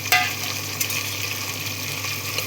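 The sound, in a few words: tomatoes frying in a pan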